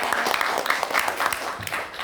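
A school audience of student organizers claps briefly and loosely at a podcast event, a short burst of scattered applause.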